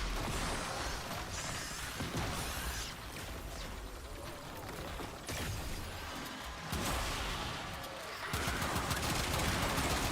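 Rapid bursts of weapon fire from the Warframe video game, including the Nail, crackle continuously and loudly alongside whooshes and impacts.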